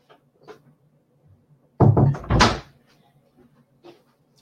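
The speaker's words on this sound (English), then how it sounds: "So I'll quickly shut the door behind me if you'll bear with me a moment." A door is shut in an indoor room during a talk, giving a loud bang with a brief rattle followed by a second thud, then quiet room tone with faint movement.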